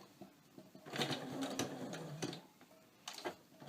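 A sewing machine fitted with a size 18 needle stitches thick, durable fabric for cornhole bags, including back stitches, in a faint, close, rapid mechanical patter that comes in short bursts.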